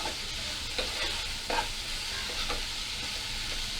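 Chopped onion frying in hot oil for a peanut curry, stirred with a spoon: a steady sizzle broken by several scraping stirs spaced about a second apart, close and alone without any talk.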